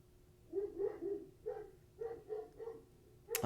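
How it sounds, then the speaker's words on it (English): A dog barks in a series of about seven sharp, fairly faint barks at an uneven rhythm, heard from a distance indoors with no talk over them. "Oh my gosh, can you hear the dog?"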